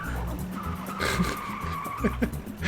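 A military truck in the war game Foxhole swerves and skids, its low engine drone running under a drawn-out tire screech, with a couple of short squeals near the end.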